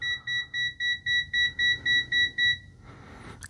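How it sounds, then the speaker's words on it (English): A CEN-TECH CM300 multimeter's high current alarm beeps rapidly at over 10 amps in a steady string of about ten short, bright pulses, then falls silent leaving faint background noise. "at 10 plus amps, we get a high current alarm"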